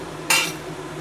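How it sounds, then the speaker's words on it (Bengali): Marinated chicken lands in a pan of cooking onions with one sudden bright burst of sizzling that fades over half a second, with no talk. "ম্যারিনেট করা চিকেন এটা দিয়ে দিচ্ছি।"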